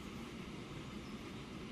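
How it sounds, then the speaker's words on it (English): A train passing in the Transport Fever simulation game, a continuous low rumbling roar of rail cars that holds steady throughout, with no talking. "Now that is a train,"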